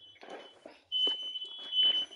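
A smoke alarm gives a high steady electronic tone, sounding intermittently and then holding, with people's voices and game chatter underneath.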